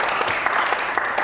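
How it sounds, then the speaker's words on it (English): Brief round of clapping from a workshop audience for the panellists, dense and steady at moderate loudness, with a few sharper claps standing out. "A wee round of applause for our panellists"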